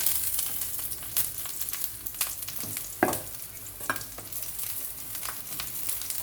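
Eggplant sizzles and fries in a generous amount of oil while a utensil stirs and scrapes through it, producing a steady crackle with irregular louder scrapes and clinks throughout.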